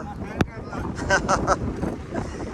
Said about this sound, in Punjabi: ਦੇਖੋ ਵੀ ਹਵਾ ਨੇ ਕਿਵੇਂ ਚੱਕ ਚੱਕ ਛੱਟੀਆਂ ਨੇ ਵੇਲਾਂ